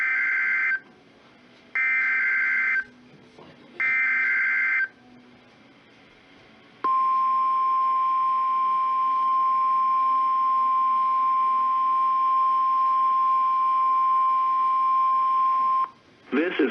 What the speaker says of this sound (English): This is a test of the NOAA radio's warning alarm device.